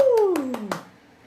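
Children clapping for Filó in a classroom: four quick, evenly spaced claps heard close, over a voice-like tone that slides downward, then a short quiet tail.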